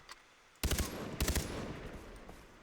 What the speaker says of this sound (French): On va aller chasser à la au fusil lourd.